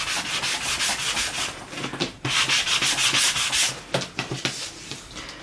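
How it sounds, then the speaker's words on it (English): A sanding block lightly rubs around the edges of paper photos in quick, scratchy back-and-forth strokes, close and fairly loud, with brief pauses between passes and no voices. "just lightly sanded around the edges."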